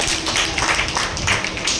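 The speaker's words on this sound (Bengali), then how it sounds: "জোরে হাততালি হোক একটা" An audience clapping at an Independence Day event held by a women's welfare society, a brief, continuous patter of many hands, fairly close and steady, with no talk over it.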